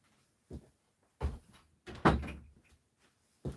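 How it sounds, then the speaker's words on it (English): A door being pushed shut indoors: several dull thumps and knocks spaced irregularly over a few seconds, the loudest near the middle, with quiet gaps in between. "let me just shut this door"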